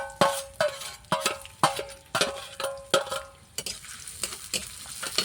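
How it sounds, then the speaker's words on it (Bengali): Green chilli, cumin and onion frying in mustard oil in a wok, a steady sizzle broken by repeated sharp clanks of a spatula stirring against the metal in an uneven rhythm, close and fairly loud. "আর আমি এখন দিব কাঁচা ঝাল জিরা আর পেঁয়াজ জিরা"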